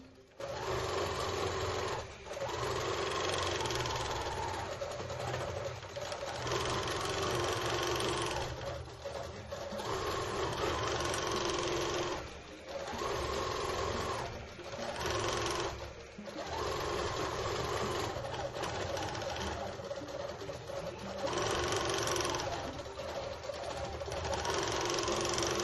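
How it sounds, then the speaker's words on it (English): A long arm quilting machine stitches a loopy pattern into a quilt made from square fabric scraps, giving a steady, close, continuous mechanical whir and rapid needle chatter with brief slowdowns and pauses, no talking. "I wanted to show you the long arm running as it's doing the quilting"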